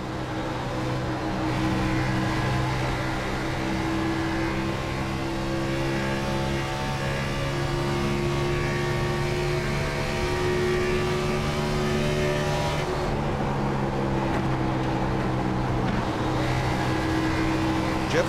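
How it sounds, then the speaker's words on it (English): Simulated race car engine from iRacing at Homestead-Miami Speedway, heard from an onboard visor camera during a lap. A loud, steady, high-revving drone runs throughout with only slight shifts in pitch. "Want to ride along for a lap? All right, Chase Elliott with our Fox virtual visor cam"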